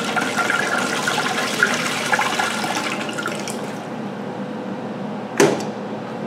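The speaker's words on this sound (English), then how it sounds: "and there's a circulation pump" A circulation pump in a heated Branson Benchmark ultrasonic aqueous cleaning station gives a steady watery rush and gurgle, with one sharp splash or clunk near the end.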